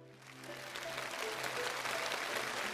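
A stage audience at a televised classical-poetry song performance applauds, the clapping swelling into a steady, dense wash over a low sustained tone.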